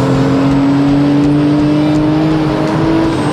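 A Nissan GT-R sports car drifting on a track, its engine roaring loud and steady with a sustained high-revving drone that stays close throughout.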